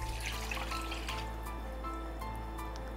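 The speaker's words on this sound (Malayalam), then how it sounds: "ഇനി ഇതിലേക്ക് തേങ്ങാപ്പാൽ ഒഴിക്കുന്നു." Coconut milk is poured into a pan for a coconut halwa, making a faint, steady liquid trickle over a constant low hum.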